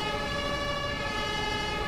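An ambulance siren in Emergency 5, a steady, sustained wail with strong tonal bands, fairly loud and close, with no voices over it.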